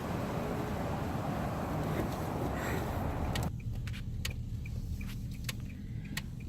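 A car rolls into an auction company's facility, its steady engine and road rumble loud and close, then suddenly quieter inside with faint clicks and rattles.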